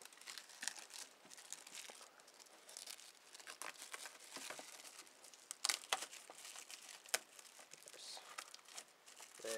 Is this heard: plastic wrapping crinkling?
yes